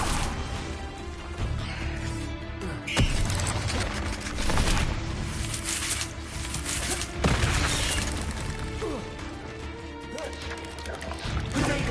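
A Confringo explosive spell goes off in Hogwarts Legacy as a string of heavy crashing booms within a continuous loud, chaotic combat din. Sharp impacts land at roughly two to three second intervals, and there is no clear speech.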